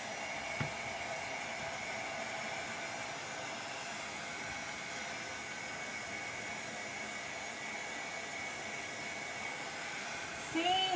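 A hair dryer runs steadily to dry acrylic paint on a craft plaque for a gourmet-area sign, its continuous whooshing airflow holding at an even level throughout with no break in the noise.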